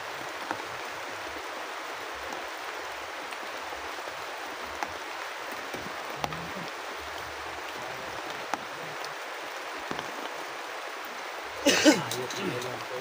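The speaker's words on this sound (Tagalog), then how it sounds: "Buhos na ulan." Heavy rain pours down in a steady, dense hiss that runs unbroken the whole time, with a brief louder sound near the end.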